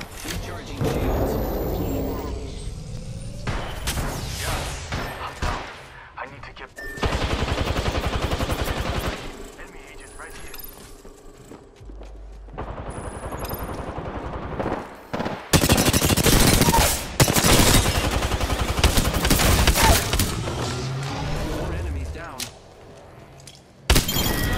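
Video game gunfire in a robot shooter, long loud machine-gun bursts and shattering impacts that come and go in waves, with voices talking over parts of it.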